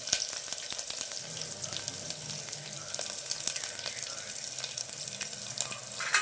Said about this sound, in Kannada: ಬೆಳ್ಳುಳ್ಳಿ ಸೇರಿಸ್ಕೊತಾ ಇದ್ದೀನಿ